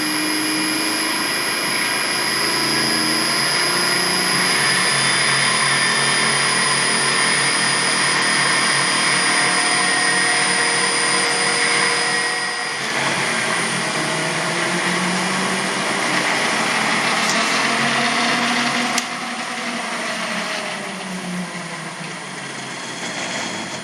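A 2 kW electric motor brought up slowly through a small speed controller gives a steady, loud mechanical whine and hum that holds throughout, with shifts in tone partway through as it speeds up.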